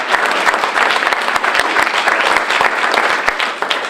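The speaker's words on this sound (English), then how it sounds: "Let's give Adam a round of applause" Loud, close applause from a conference audience at a Joomla Day keynote in Florida, congratulating a colleague on his promotion; many hands clap in a sustained, dense burst lasting several seconds, with no talking over it.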